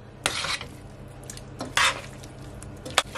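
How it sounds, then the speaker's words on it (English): A utensil stirs and tosses noodles into chicken chow mein in a pan, giving three distinct scraping, sizzling strokes spaced about a second apart over a low steady frying hiss. "after I add the noodle, I just wanna, mix it all in"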